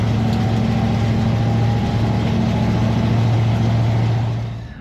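Abandoned 1968 Plymouth Satellite making a drag run down the strip, a steady loud engine drone with a strong low hum that holds throughout before trailing off at the end.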